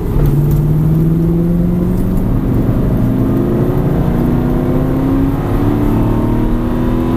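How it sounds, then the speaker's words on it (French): Aston Martin V8 Vantage accelerating on a race track, a loud close engine note climbing steadily in pitch through the revs without a break. "On reprend l'accélération."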